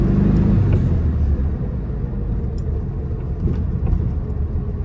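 A 1967 VW Beetle with its air-cooled engine driving along, a loud steady low rumble and motor drone from close by, no talking.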